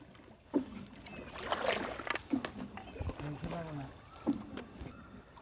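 A rowboat is paddled on a river at Bang Rachan, with irregular splashes and gurgles of paddle strokes close by while people talk over the water.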